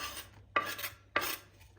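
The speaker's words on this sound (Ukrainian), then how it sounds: "І сюди висипаємо нашу порізану цибульку." Chopped onion tipped into hot sunflower oil in a pan, with two sharp bursts of sizzling clatter about half a second apart, each fading into a softer frying hiss.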